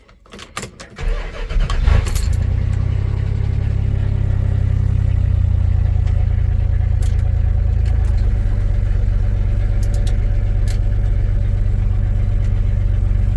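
Dodge D100 truck engine cranks briefly and fires up, then settles into a loud, steady idle close by for the rest of the stretch.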